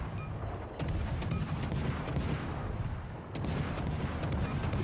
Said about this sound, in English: I also turn guns on the Shani. Shots out.